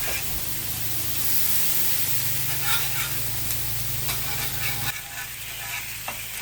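Thick-cut bacon sizzles and crackles on a flat-top griddle, a dense hissing fry with scattered pops and a brief scrape or shift partway through, close and steady with no talking.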